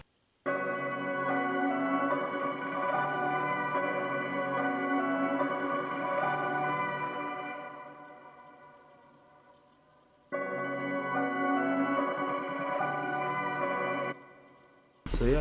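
A rendered dark hip-hop beat made in FL Studio with a glockenspiel melody, a sustained bright harmonic loop that fades out, drops briefly, then returns before cutting off, quiet and without voices.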